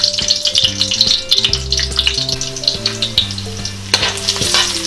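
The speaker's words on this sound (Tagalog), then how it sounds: "Ngayon po ay igigisa na natin itong ating bawang." Garlic sautés in a hot pan for a corned beef and chayote dish, a steady bright sizzle with occasional stirring scrapes running throughout, close and fairly loud, over a tonal musical background.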